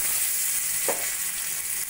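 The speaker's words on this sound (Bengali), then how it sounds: "কড়াইতে ওই তেলের মধ্যে দিয়ে দেবো কুচিয়ে নেওয়া রসুন" Chopped garlic sizzles in hot oil in a wok while chilli paneer is being cooked, giving a steady, close frying hiss with one brief crackle burst.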